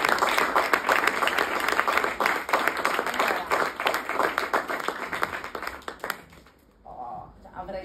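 An audience at an interview event in Pescara applauds loudly and steadily for about six seconds, the clapping then fading away, with a voice speaking briefly at the end.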